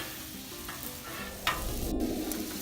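Vegetables and smoked lamb warming in a pan for an omelette, a close, steady sizzle with a few light stirring scrapes and no voices.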